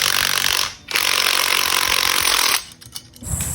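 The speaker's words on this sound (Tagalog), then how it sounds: "ito na yung torque drive natin, sobrang binasic lang ng ating Makita impact wrench." A Makita impact wrench whirs in two loud, sustained high-pitched bursts with a short pause between, ending in a clattering, uneven tail as it winds down.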